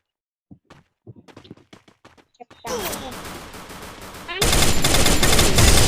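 Gunfire in the Free Fire video game: a run of sharp single shots, then sustained loud automatic bursts that build into dense continuous firing, with distant enemy engagement implied and no talk over it.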